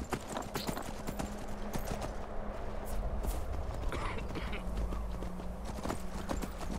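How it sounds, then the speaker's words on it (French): Horse hooves from a Dark Brotherhood mount in the video game Skyrim, steady clip-clop footfalls at a walking rhythm over continuous ambient game sound, with no speech. "j'arrive avec un cheval de la confrérie noire"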